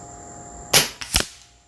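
A .25 Avenger BP air rifle fires an H&N Gen II slug, a single sharp, close crack followed quickly by a fainter second snap and a short tail.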